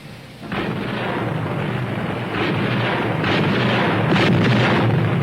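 Test-firing of the 16-inch guns aboard the battleship USS New Jersey BB-62, a heavy, deep roaring blast that swells and rumbles on, distant and sustained like thunder.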